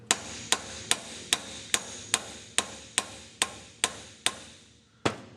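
Sharp metallic hammer blows drive a universal-joint bearing cap into a 1999 Toyota 4Runner driveshaft yoke, about a dozen evenly spaced strikes ringing out close and alone, with a short pause before the last one.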